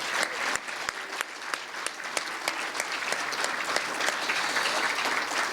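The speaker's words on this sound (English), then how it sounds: "Let's give a big round of applause for these 5 wonderful inductees." Hall of fame ceremony audience gives sustained applause for five athletics inductees, a dense steady clapping that fills the hall without a break from start to finish.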